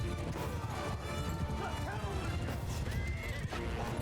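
Cavalry horses neighing amid galloping hooves in Mount & Blade II: Bannerlord, a dense, loud battle din throughout with whinnies rising over the clatter.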